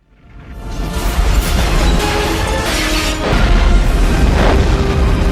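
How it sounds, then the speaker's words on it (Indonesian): A deep, loud boom swells into a sustained roaring rumble with bursts of debris-like crackle, continuing heavily for several seconds. "menabrak laboratorium yang mengakibatkan ledakan besar"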